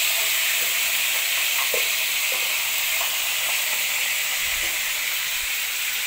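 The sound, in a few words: chicken wings frying in pan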